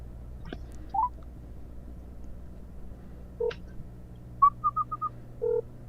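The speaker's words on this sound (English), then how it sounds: "we're gonna phone the 263-2400" Touch-tone telephone number being dialed, a series of short, clear beeps with uneven gaps, including a quick run of four tones near the end, heard alone over faint background hum.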